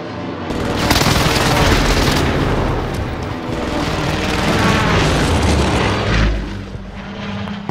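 Precision airstrike in Call of Duty Warzone: a roaring aircraft pass with heavy rumbling explosions, loud and sustained for several seconds with no talk.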